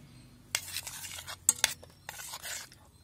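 A spoon clinks and scrapes as banana is mixed into yogurt in a bowl, with uneven soft stirring and a few bright metallic taps up close.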